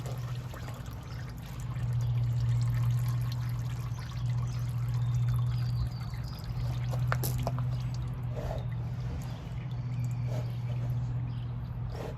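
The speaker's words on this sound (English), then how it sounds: "Oh, now it wants to pour out a bunch more as I turn it, of course." Transmission fluid pours from a car transmission during an LS swap budget build, a steady trickling, dribbling flow over a constant low hum, with scattered clinks of handling and no talk.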